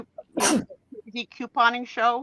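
A single sharp sneeze bursts out near the start, followed by people talking.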